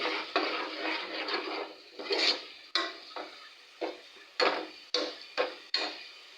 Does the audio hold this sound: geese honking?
no